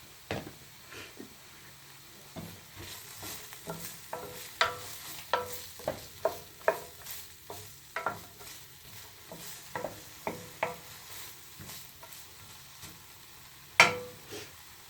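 Sausage and onion frying in a pan with olive oil, a soft background sizzle broken by a run of sharp clacks and scrapes from a utensil stirring against the pan, with one loud knock near the end.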